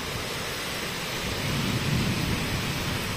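Heavy rain pours steadily with rolling thunder rumbling beneath it, growing slightly louder midway through a monsoon storm over a village home.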